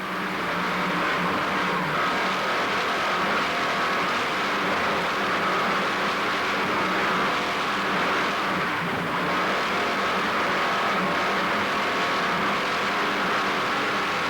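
Racing powerboat Hot and Nasty M58, with Mercury High Performance power and Bill Mouth at the wheel, roars at a steady, loud, unbroken pitch for the whole stretch, with wind and water rush layered over the engine.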